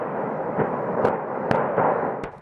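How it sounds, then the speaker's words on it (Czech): Explosions at the Vrbětice ammunition depot rumble on, with a continuous low roar broken by several sharp distant bangs spaced irregularly. "Výbuchy, kouř, záblesky"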